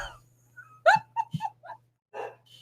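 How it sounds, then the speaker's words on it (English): A pet dog gives a few short barks and yips close by, with brief breathy whimpers between them, over a steady low hum and no talking. "Okay, so that's my dog Frodo"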